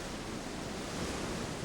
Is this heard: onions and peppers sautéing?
no